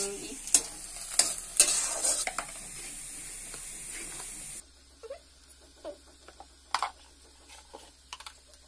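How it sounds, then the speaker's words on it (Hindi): Onions fry in a pan and are stirred until brown, with a soft sizzle under repeated scraping clicks of the spoon, loudest early and then sparser, quieter strokes. "मैं इसे प्याज को ब्राउन करने तक भून लूंगी"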